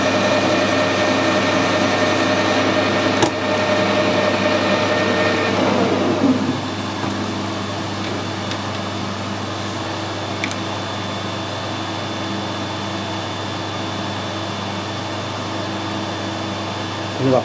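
A machine tool takes a light finishing cut with a carbide insert, heard as a steady whirring mechanical hum with faint tonal whine that drops slightly in level partway through, with a couple of brief ticks.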